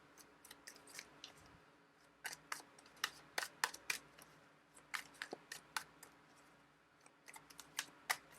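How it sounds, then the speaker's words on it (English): Tarot cards shuffled repeatedly in the hands, producing quiet, irregular riffling snaps and soft flutters that come in bursts over light background noise, with no talking. "I'm going to keep shuffling."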